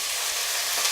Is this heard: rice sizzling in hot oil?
yes